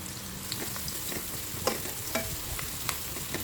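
Onion and garlic sautéing in oil left over from frying milkfish, a steady soft sizzle with faint stirring scrapes and small pops, heard alone at low level.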